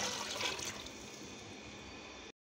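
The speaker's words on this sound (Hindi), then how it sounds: "और डालेंगे पानी।" Water poured into a pan of chana daal cooking in spice masala, making a steady rushing, splashing pour that is close and continuous for about two seconds before stopping abruptly.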